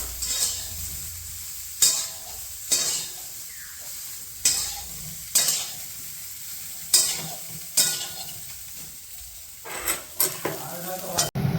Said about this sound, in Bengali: এখন কপিটা এখন ভাজা ভাজা চলছে